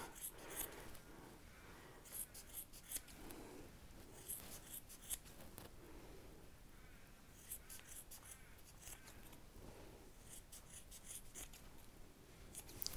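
Small cheap scissors snip through weaving threads on a rigid heddle loom for towels, giving a series of quiet, irregular clipping bursts spread across the clip, fairly close and alone.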